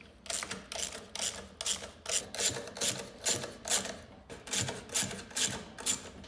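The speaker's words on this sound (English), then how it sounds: "So to tighten all these, you got the 5mm Allen and a 10mm just wrench." Allen key and wrench tightening bolts on a titanium license plate bracket for a GY6 scooter, giving a steady series of quick metallic ratcheting clicks in bursts with short pauses between them, close by and with no talking.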